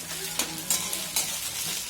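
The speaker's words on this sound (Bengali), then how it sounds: "মাংস আর চিকেন রান্না করছি।" Meat and chicken frying in a pan, with a steady broad sizzle and a few sharp stirring scrapes and clinks close by, no talk over it.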